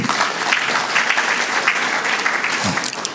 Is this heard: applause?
yes